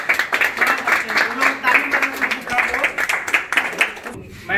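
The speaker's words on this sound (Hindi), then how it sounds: "ताली मार दीजिए इसके लिए, ताली मारो" Clapping for a student being honoured with a medal at an academy result event, a loose, rhythmic round of hand claps from a small group, close and fairly loud, with voices talking over it.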